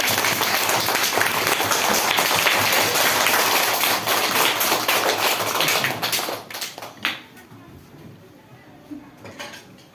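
Audience applause for a student presenter at a school advertisement presentation: thick, sustained clapping from many hands for about six seconds, then quickly dying away to a few scattered claps.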